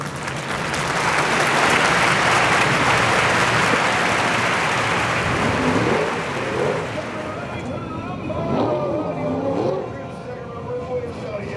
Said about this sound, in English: Nice round of applause for your winner